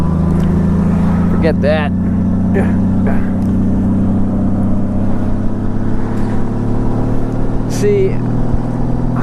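A Honda six-cylinder boxer motorcycle engine idles and hums steadily and loudly throughout, a smooth low drone with slight revving, while people talk over it.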